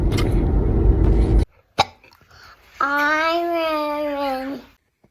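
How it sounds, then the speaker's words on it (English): A baby hiccups, first a sharp squeaky hiccup after a burst of noise, then a drawn-out, wavering voiced squeal-like sound, near and clear in a quiet room. "You got the hiccups again?"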